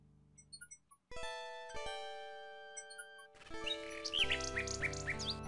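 A nightingale in the video game King's Quest 6 trills and chirps in bright, quick phrases over tinkling game music. It sounds clear and close, and there is no talking.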